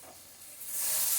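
Milk cream dropped into a hot pan for soybean and white pulao, giving a soft hiss that swells into a loud bright sizzle over about a second, with no talking.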